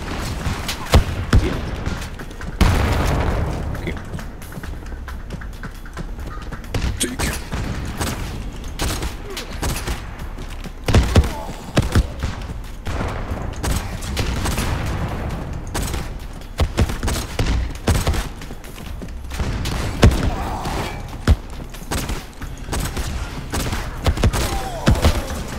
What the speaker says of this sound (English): The harpoon gun with the spicy slugs, man, is just way too powerful.